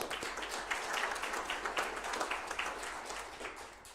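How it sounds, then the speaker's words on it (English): Moderate audience applause at a city council inauguration, steady clapping from a seated crowd lasting several seconds, fairly quiet and a little distant. "Jim, a round of applause for you."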